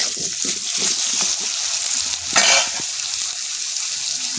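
Cut potatoes fry in oil left from frying singi fish, giving a continuous close sizzle with a brief louder burst of crackling midway and faint stirring clatter.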